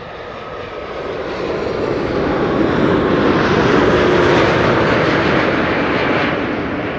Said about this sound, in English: This is KLM flight 758, 787-10 Dreamliner arriving from Panama City.